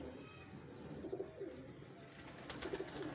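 Pigeons coo softly at some distance in two short, rolling bouts separated by a pause, faint against a steady background hiss.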